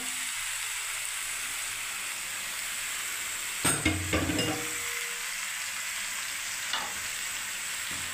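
Tomato paste and ginger paste fry quietly in a pan, a soft steady hiss with a brief burst of stirring clatter midway and a small knock near the end.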